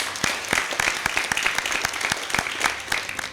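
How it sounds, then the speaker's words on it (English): Audience applause at a school debate competition, a fairly small crowd clapping in quick, distinct hand claps that stay lively and steady through the short stretch. "Let's hear a hearty round of applause."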